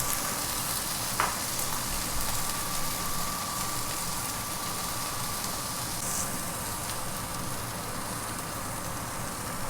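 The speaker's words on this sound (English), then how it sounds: "paneer gets fried up very easily and very less time" Steady, dense sizzling of paneer pieces and raw banana chunks frying together in hot oil, a continuous close crackle with no pauses or talk.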